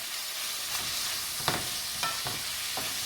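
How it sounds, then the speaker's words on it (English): Vegetables sauté in a pan seasoned with salt and black pepper, giving a steady close sizzle broken by a few soft stirring scrapes. "what this does is it breaks down the vegetables and it allows them to saute"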